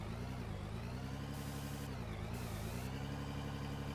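Heavy machinery engine idling in the video game Out of Ore, a steady low diesel rumble that holds level with slight shifts in pitch, close and continuous with no talk.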